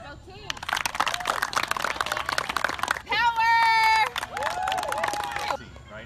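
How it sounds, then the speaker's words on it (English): Spectators at a softball game clap and cheer for both teams, a lively crowd din with shouting and babble, and a whistle-like tone briefly cutting through in the middle. "give a round of applause to both teams"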